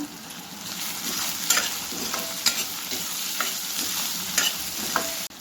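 Potato pieces stirred and fried in a pan, a continuous sizzle with periodic scraping strokes of the spoon, close and clear with no talking.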